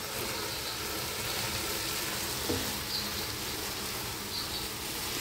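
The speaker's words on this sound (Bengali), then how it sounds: "এটাও হয়ে গেছে ভাজা ভাজা ডালটা, এখন চাল দিয়ে ভাজতে হবে।" Dal and rice frying in a non-stick pan, a steady soft sizzle throughout with faint stirring clicks, fairly quiet and without speech.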